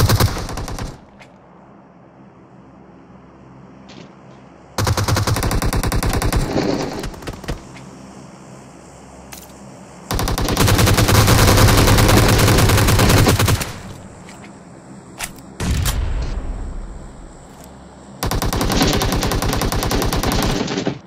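Bursts of automatic gunfire in a PUBG match on the snowy Vikendi map, loud sustained volleys of several seconds each separated by quieter gaps, with no talk over them.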